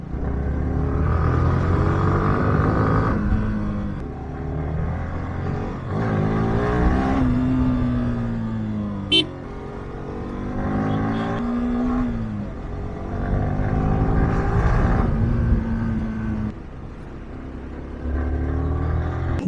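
A car driving over a muddy village road in rainy weather, engine rumbling and revving close by in repeated surges as it works through the mud.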